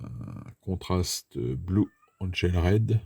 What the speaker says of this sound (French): Derrière, c'est mon chat qui miaule.